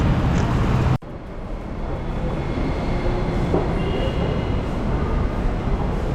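Kochi Metro train rumbling steadily with broadband rail noise, a sharp cut about one second in, then continuous close rolling and faint wheel squeal throughout, no talk.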